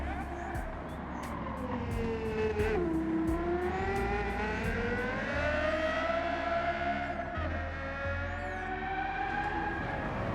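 In Gran Turismo 7, a fast sports car's engine is pushed hard, its whining tone rising and falling as the revs climb and drop, while someone talks over the top the whole time.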